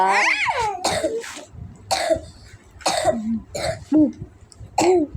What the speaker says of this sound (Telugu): ఏం దగ్గులమ్మ దగ్గులు